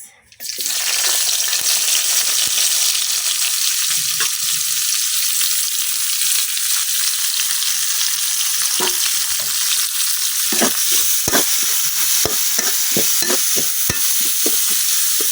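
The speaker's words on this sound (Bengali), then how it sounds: "এখন মাছ ভাজা তেলের মধ্যে আমি দিয়ে দিতেছি কাটের পেঁয়াজ" Sliced onions sizzle loudly in oil left over from frying pangas fish heads in a village kitchen, a steady close hiss with scattered stirring clicks toward the end.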